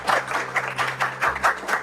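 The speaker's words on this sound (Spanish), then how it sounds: "Un aplauso acá al amigo." A small group claps in brisk, uneven rhythm for a guest at a home meal of traditional Paraguayan food, the steady patter close and lively, with little talk.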